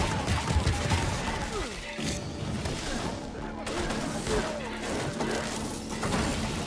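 Continuous rumbling booms and crashing blasts from explosions in Infamous Second Son, dense and loud throughout, with no clear pauses.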